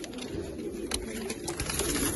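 A Ferozpuri pigeon coos close by in a low, steady, continuous murmur that runs through the whole stretch, with a few faint clicks and rustles over it.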